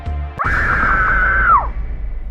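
A girl lets out a single loud, sustained high-pitched scream lasting about a second before trailing off, preceded by a sharp thud, as a sound effect in an animated scary story.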